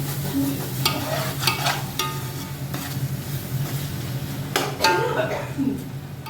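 Mutton biryani with coriander and mint being stirred in a pot, with intermittent scraping and clanking strokes over a low sizzle and background hum, heard up close.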